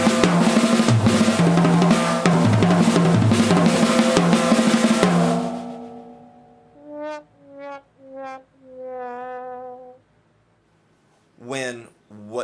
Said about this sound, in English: when you try to play it on the drum set, it sounds like this